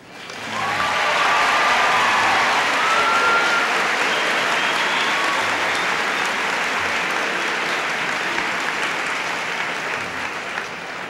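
Sustained applause from a crowd of high school students for their principal at Northside High School in Georgia, a dense, steady roar of many hands clapping that runs loud for the whole stretch and eases only slightly toward the end.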